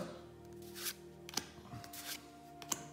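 Star Wars trading cards are sorted by hand, with soft, quiet flicks and slides of card stock as individual cards are picked up and set down in a few separate bursts.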